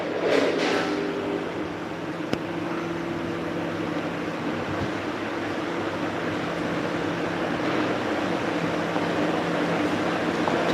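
Steady machinery hum fills a packing-machine warehouse for automatic block and granular doypack packing, a continuous low drone with a faint broadband hiss, even in level throughout with no talk.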